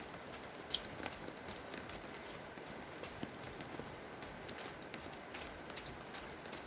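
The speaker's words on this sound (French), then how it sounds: "On entend la rivière au fond." A steady, faint rushing wash of flowing water fills the background, dotted with light patters and no voices.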